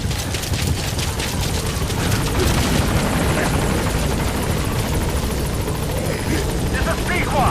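Helicopter in the Metal Gear Solid V: The Phantom Pain video game, a loud steady rotor thump and engine roar filling the whole stretch with dense broadband noise, close and continuous.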